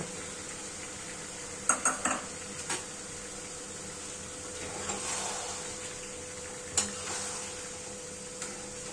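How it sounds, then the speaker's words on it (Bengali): Beaten sour yogurt being worked into half-cooked chicken in a pot: scattered metal spoon clinks and scrapes against the pot, a few sharp knocks, over a low steady kitchen hum, no talking. "টক দইটা মাংসের সাথে খুব ভালোভাবে মাখামাখি করে নেব।"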